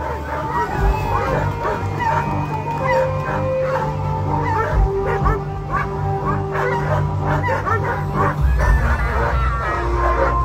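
A sled dog team waits at the start line of a La Grande Odyssée race stage at La Chapelle-d'Abondance, barking, yipping and whining excitedly and continuously up close, with crowd chatter in the background.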